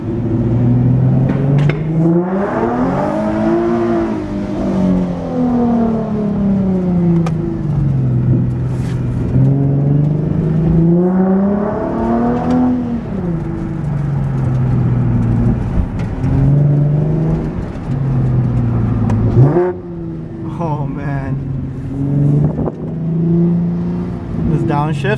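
A modded Nissan 370Z's exhaust drones steadily while driving, rising and falling with revs through shifts, loud and continuous, with a brief dip near the end.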